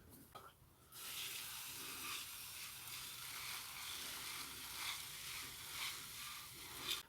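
Water spraying from a hose or watering can onto compost in small plant pots set for dwarf sunflower seeds, a steady close hiss running alone for about six seconds.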